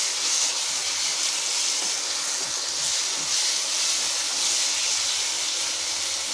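Tomatoes and onions sautéing in a pan for chicken gravy, a steady, even sizzling hiss that holds at the same level throughout with no talking.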